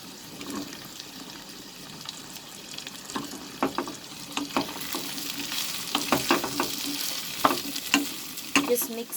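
Potatoes are being stirred through sautéed ginger-garlic paste in a pan, with a soft sizzle under repeated scraping and clattering strokes that grow busier and louder toward the end.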